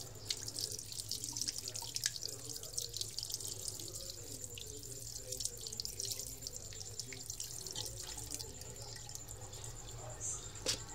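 Tap water runs steadily while live fish food (piojo, water fleas) is rinsed in a sink, a constant close splashing stream with faint drips and no talk.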